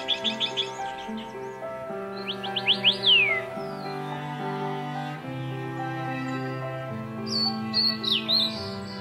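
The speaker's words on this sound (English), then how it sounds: "Bird songs and calls are ways of transmitting their feelings." Birds sing and call in the Taroko mountain forest during mating season, bright chirping trills in short repeated bursts over a sustained musical backdrop, near and clear.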